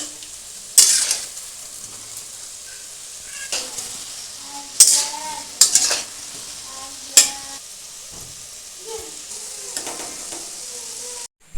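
Boras (fritters) frying in a pan: a steady soft sizzle broken by several sharp scrapes and clinks of a utensil stirring and turning them, close and loud.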